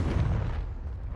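A Confringo spell explosion in the video game Hogwarts Legacy, a loud booming blast with a heavy low rumble that fades over about a second, with no talk over it.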